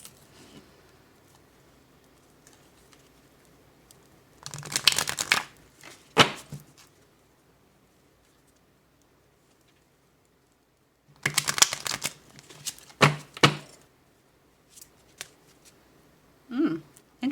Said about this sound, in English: Do I need to shuffle any of these decks anymore?